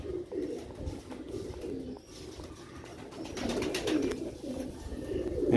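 A female rooftop pigeon from Sialkot coos softly nearby in low, repeated throaty calls, with faint chirps and background rustle around it.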